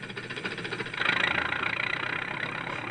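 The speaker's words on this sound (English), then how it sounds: "Suddenly, the tractor roared to life." A tractor engine catching and running, a low rumbling idle that swells louder about a third of the way in and then holds a steady, knocking chug close by.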